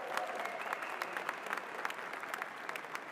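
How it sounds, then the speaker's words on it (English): Applause from a crowd for a freediver at a dynamic apnea competition, a dense, steady patter of clapping lasting throughout, moderately distant and even in level. "I think you can hear the big applause from Magdalena there."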